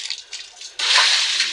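Water poured out onto a livestock pen floor, a soft trickle that suddenly becomes a steady, loud splashing gush, close by.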